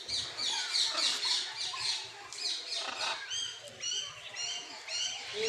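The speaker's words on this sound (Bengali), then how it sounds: "আর এই যে পাশে হচ্ছে টিয়া পাখি" A parrot squawks at Chittagong zoo, giving repeated harsh, raspy calls in short bursts that come close and loud, with faint background murmur between them.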